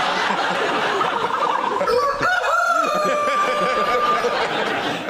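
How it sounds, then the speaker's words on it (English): An ostrich call played as a demonstration on a TV panel show, a steady loud call throughout, with a rising tonal cry in the middle, alone without talk. "And this is the sound of an ostrich."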